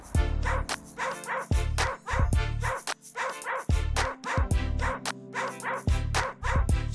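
Dogs at a shelter adoption event in Griffith Park bark and yip repeatedly in quick bursts, several animals overlapping, loud and close with short gaps between volleys.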